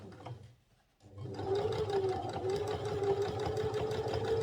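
A sewing machine starts up after a short pause and runs steadily at an even pace as it stitches the round curve of a shirt collar, its rapid needle clatter close and continuous.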